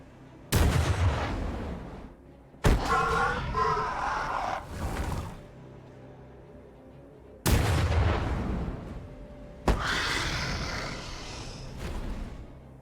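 Skull cannons fire artillery in the Warhammer 40k: Battlesector strategy game. Two heavy, loud blasts come several seconds apart, and each roars on into a long, rumbling, crackling tail.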